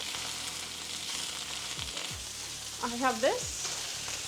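Meat fries in hot oil on a stove, a loud continuous sizzle with spattering pops, close up; a person speaks briefly near the end.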